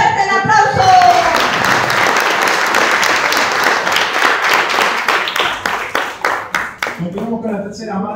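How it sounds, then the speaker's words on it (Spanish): A crowd at a Christian Mother's Day church play claps loudly and steadily for a mother. The dense applause runs almost the whole clip, tapering near the end as a voice begins. "¡Fuerte el aplauso!"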